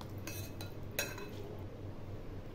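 A metal spoon stirring black pepper powder into boondi raita in a bowl, giving a few quiet clinks and scrapes against the dish at close range.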